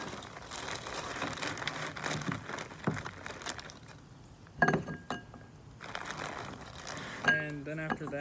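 Dry ice set into a bowl: faint clinks and scraping rattles of hard chunks against the dish, scattered over several seconds, quiet and close, with a few brighter taps near the end.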